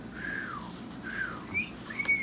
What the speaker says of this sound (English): I whistle, Grandpappy said.